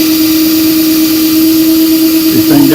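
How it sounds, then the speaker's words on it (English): An electric drill runs steadily with a strong constant whine, used to polish an old 50-cent coin with Brasso on a blue shop rag; near and loud, shifting slightly in pitch near the end. "run that drill."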